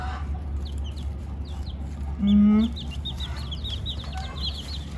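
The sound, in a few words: chickens clucking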